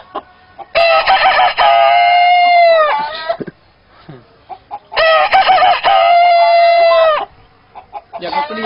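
A man imitates a rooster crowing with his voice, giving two long, loud cock-a-doodle-doo calls separated by a short pause, and a third call starts at the end.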